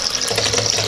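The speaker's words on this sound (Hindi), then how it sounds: "अगर मैं इसमें से कुछ पानी निकालूँ" Water pours steadily from the tap of a Eureka Forbes Aquaguard purifier, a brief, close, continuous splashing stream.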